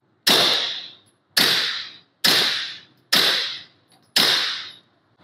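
Five suppressed 9mm gunshots from a Rugged Obsidian 9 firing Buffalo Bore ammunition, each a sharp loud crack with a short decaying tail, spaced about a second apart, with no talking.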